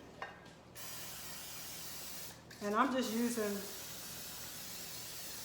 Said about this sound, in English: So we're going to spray liberally.